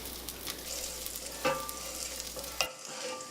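Garlic sizzling in an olive-oiled pan while being stirred: a steady soft crackle with a couple of sharp utensil scrapes and clicks, ending abruptly.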